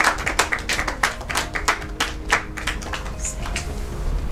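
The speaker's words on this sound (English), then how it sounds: "Let's clap for him." A group of people clap for a child at a televised Children's Day weekend special in a studio, a quick run of sharp, overlapping handclaps that thins toward the end.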